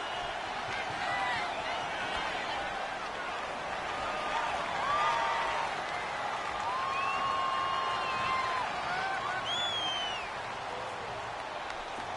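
A home stadium crowd at a football game gives off a steady, loud roar of cheering and whooping that swells slightly mid-clip, with scattered shouts rising above it.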